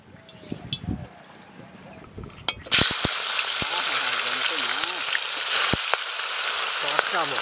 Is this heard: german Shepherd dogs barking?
no